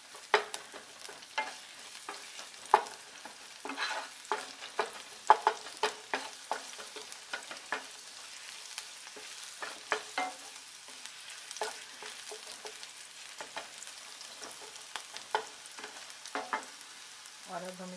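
Garlic and green chillies sizzle in hot oil while being stirred, with scattered spatula scrapes and crackles over a steady, quiet frying hiss, no voices.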